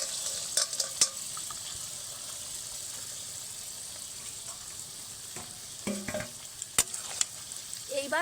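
Marinated chicken fries in a pan and is stirred, making a steady close sizzle with intermittent scraping and clinking of the spatula against the metal pan.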